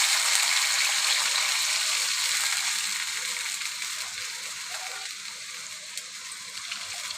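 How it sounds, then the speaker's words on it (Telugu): Steady hissing pour of two glasses of water into a hot pan of fried onions and curry leaves for semiya upma, a continuous broadband rush that gradually softens over several seconds, with no voices. "నేను టూ గ్లాసెస్ వాటర్ వేస్తున్నానండి"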